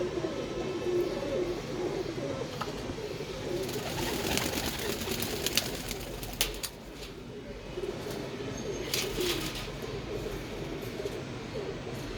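Rampuri pigeons coo in a low, steady murmur from several birds close by, with rustling, a few sharper knocks and faint background noise throughout.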